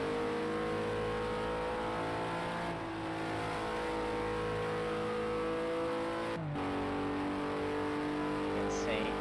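A race car engine with no traction control held at a steady high drone as the driver feathers the throttle, continuous and loud with brief dips, under a commentator's voice.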